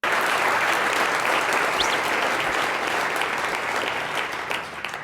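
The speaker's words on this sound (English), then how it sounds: "I think we should give them a round of applause for that." Loud, dense crowd applause sustained evenly from start to finish, tapering slightly at the very end, with no talking over it.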